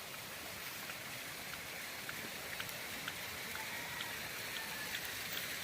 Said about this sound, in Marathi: अजून हाय थोडा रिमझिम रिमझिम ही खूप आहे